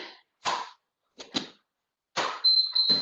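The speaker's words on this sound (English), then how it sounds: "Keep your ears open, listening for that beep." A short electronic beep tone from a workout interval timer sounds near the end, a steady high pitch following several bursts of breathy noise or movement during a HIIT session.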